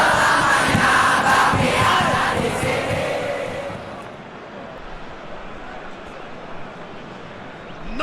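Stadium crowd roars and cheers loudly in a BRI Super League football video game match between Dewa United and Persib Bandung, the noise swelling for about three seconds and then fading to a lower murmur.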